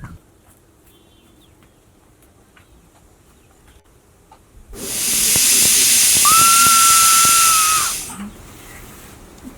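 A kitchen steam whistle, sounding while rice is being cooked, bursts into a loud, close hiss for a few seconds, with a clear whistling tone rising partway through before it cuts off, after quiet room noise.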